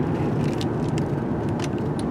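Car driving toward Finning Mill Road, heard as a steady, close low rumble of engine and road noise with no speech, holding an even level throughout.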